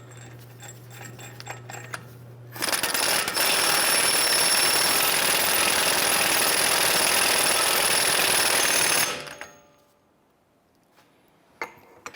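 A power tool tightens the axle nut on a 2011-2018 Ram 1500 during a wheel bearing and hub replacement, running loud and continuous for about six seconds at close range before cutting off, with small clicks before and after.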